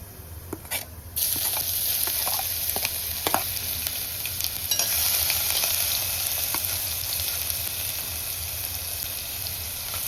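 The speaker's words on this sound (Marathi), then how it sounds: "जिरं मोहरी छान फुलले की त्याच्यात नंतर आपण लसूण टाकणार आहोत" Cumin and mustard seeds sizzling in hot oil for a dal tadka, a steady close crackle and hiss with a few sharp pops and spoon stirs, continuing without a break.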